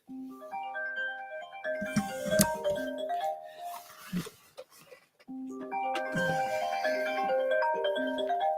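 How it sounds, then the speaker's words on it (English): A phone ringtone plays a melodic, electronic tune in two bursts separated by a short pause, moderately loud and close, with faint handling noise between the bursts. "I'm getting a call. Hold on. I'm trying to find my phone."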